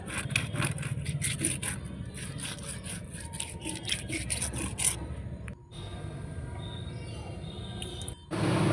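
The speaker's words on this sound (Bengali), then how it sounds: "এই যে দেখো ছাদে নিয়ে গেছি মাছটাকে ঘষার জন্য একটু ভালো করে না ঘষলেও হয় না" Tiger prawns are scrubbed clean by hand on a rooftop, repeated short rasping scrubbing strokes in a quick rhythm at close range, pausing briefly before a steadier rubbing resumes.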